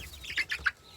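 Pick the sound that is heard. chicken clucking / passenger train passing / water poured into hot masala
chicken clucking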